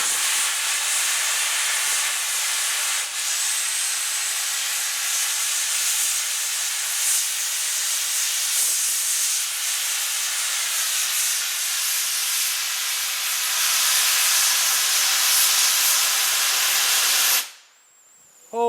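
A steam pop-off safety valve blows off in a loud, sustained hiss that holds steady for about seventeen seconds before cutting out abruptly; voices are faintly present near the end.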